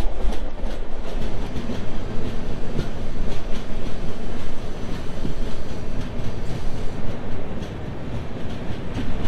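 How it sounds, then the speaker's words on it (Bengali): Tamralipta Express pulling out of Mecheda station on the Howrah to Digha line, a loud, close rumble of wheels and carriages with rhythmic clickety-clack, steady throughout with a slight easing near the end. "তো আবার ট্রেন ছেড়ে দিল, হুইসেল দিয়ে দিল ট্রেনে"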